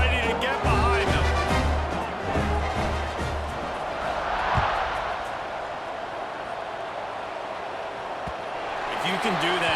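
Stadium crowd roaring continuously in the EA Sports College Football 26 video game, a broad steady wash of cheering at a Texas State at ULM kickoff, with a commentator talking over it.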